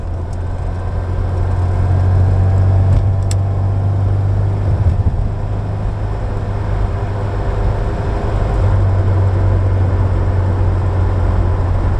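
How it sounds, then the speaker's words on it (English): Steady, loud engine drone from an Austin Ambassador automatic on kick-down, a strong low hum holding constant with road and cabin noise throughout, no speech. "Let's just try a kick down. Yeah, that is loud."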